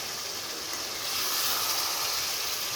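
Fish roe hits hot oil and cooked-down masala in a pan, giving a steady, broad sizzling hiss that swells slightly midway and continues evenly with no talking.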